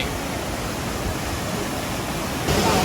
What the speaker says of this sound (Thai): อันนี้เราก็ถึงน้ำตกริวซึ